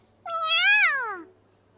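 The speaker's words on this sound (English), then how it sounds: "At my feet, Edo meows happily." A cat meows once in a video game, a single clear drawn-out meow that rises then falls, close and alone over faint background hum.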